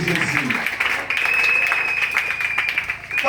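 A church congregation applauds for Jesus with steady, dense clapping throughout, and a voice speaks over it.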